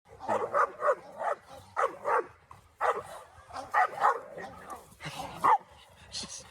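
A double-bred protection dog barks repeatedly in a steady rhythm of sharp, close barks during civil bite work training, with a handler's voice talking between the barks.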